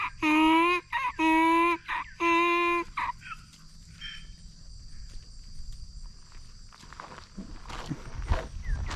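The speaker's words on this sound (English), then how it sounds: "Hello, baby donkeys." Baby donkeys bray in several loud, harmonic bursts close by, followed by quiet outdoor ambience with faint insect buzz and shuffling footsteps.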